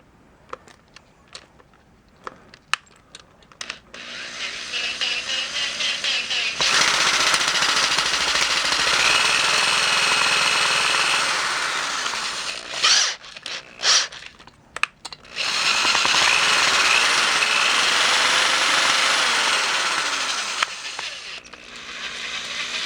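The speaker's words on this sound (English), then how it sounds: "We're using a 5/32 drill bit, just in case you want to know." A power drill with a 5/32 bit bores a hole in a race boat in two long sustained bursts, separated by short stops and clicks, loud and close.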